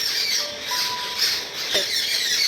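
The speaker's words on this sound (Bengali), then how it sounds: "পাখিদের আওয়াজ শুনতে পাচ্ছ? চারিদিকে এই দেখো বসে ঝগড়া করছে" A flock of birds squawks and chatters outdoors in an overlapping, quarrelsome chorus, with short sharp calls rising and falling over a steady background of chirps.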